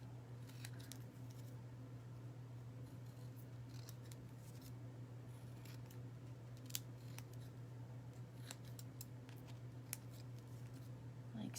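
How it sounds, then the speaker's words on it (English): Scissors trimming the edges of scrapbook paper glued onto small wooden earrings, faint sparse snips close by over a steady low hum. "I'm just going to go around and trim the edges."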